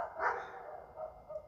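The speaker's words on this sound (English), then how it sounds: "if you hear dogs barking, please ignore it. Yeah, we're outside." Dogs bark outdoors at a distance, a faint bark followed by quieter yips, muffled and low against the background.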